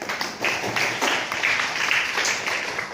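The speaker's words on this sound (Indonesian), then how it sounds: "Oke, tepuk tangan." Audience clapping for a student group's class presentation of a sound-sensor switch, a steady dense patter lasting throughout at moderate loudness with a faint voice underneath.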